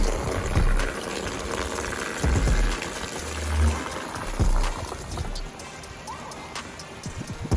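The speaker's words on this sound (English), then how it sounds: "Water's coming down over there" Water pours down from a greenhouse roof, splashing steadily nearby, with scattered drips and thuds and some low background noise.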